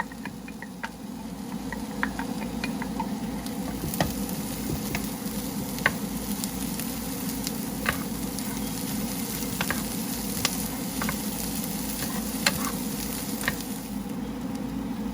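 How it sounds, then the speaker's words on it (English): Potatoes and a cup of onions frying together in a pan for potato soup while being stirred, a continuous soft sizzle with scattered scraping and knocking of the utensil, with no talking. "they're ready to be mixed with the cup of onions that I have prepared on the side. And we're just going to stir those two together"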